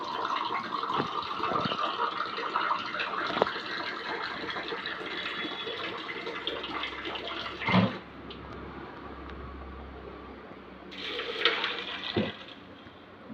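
Filtered water pours into a juicer mixer jar with a steady gushing splash for several seconds, then breaks off before a brief second pour near the end.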